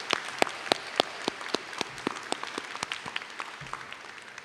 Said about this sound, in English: I need for all of you to give them a round of applause for helping you to get to this day.